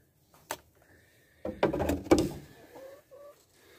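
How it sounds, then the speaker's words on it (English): A few short, clucking calls from a laying hen in a chicken coop rise over quiet background rustling, with some soft knocks and bumps in between. "a nice hen laying eggs"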